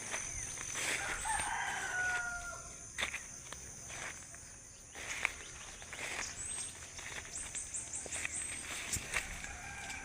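Outdoors, a rooster crows a couple of times at moderate distance, with insects humming and occasional footsteps in the background.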